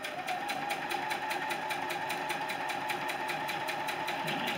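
A sewing machine stitches quilt block seams in a fast, even run of rapid needle strokes, steady and close, with no pauses and no talking.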